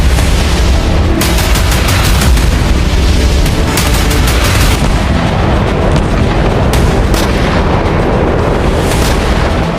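Bombing and gunfire from news footage of Hezbollah-Israel fighting around shelled villages: a loud, continuous, distorted roar with sharp crackling bursts and heavy booms running throughout, with no voices.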